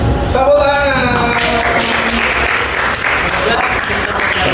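A room of people breaks into applause at a school teaching-practice presentation, a dense wash of clapping that follows a short burst of voice at the start.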